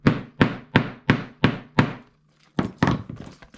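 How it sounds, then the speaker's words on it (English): A small chunky hammer taps on a handle attached to a bag made from placemats, landing six quick, evenly spaced knocks, then a brief pause and a few more rapid hits, close and fairly loud. "then I'll just go inside with my chunky little hammer,"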